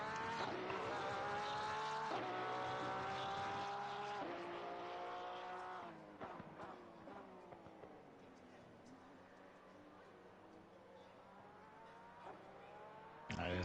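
A Ferrari 296 GT3 in a racing game, held at full throttle with its engine note climbing through repeated upshifts, then easing off. Tire squeal follows, with a close, fairly quiet voice over part of it.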